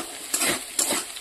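Cauliflower with ground turmeric, chili, cumin and other stone-ground spice paste sautés in a hot pan, two brisk stirring scrapes over a steady close sizzle, with no voices.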